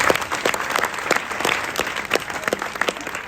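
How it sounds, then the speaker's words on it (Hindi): An audience at a student award ceremony claps steadily, dense applause of many hands going on without pause, fairly loud and even. "एक बार पुनः श्री वकील सर के लिए तालियां हो जाए"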